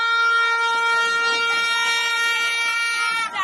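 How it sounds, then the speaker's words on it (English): A loud, sustained air horn blares at a street protest, its steady harmonic tone holding for about three seconds before wavering and bending near the end. "Or is it an air horn that the protesters are using?"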